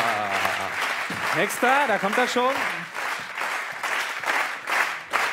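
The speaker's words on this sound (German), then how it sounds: "Und Applaus für den Zauberfuß von der Weser." Studio audience claps during a televised football goal-wall shooting segment, bursts of applause rising and falling while a presenter talks over it.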